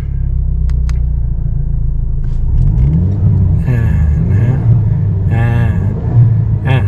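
Armytrix exhaust fitted to a Mercedes-Benz W205 in Neighbor mode, heard from inside the cabin: a steady, loud low rumble with a couple of rising revs partway through.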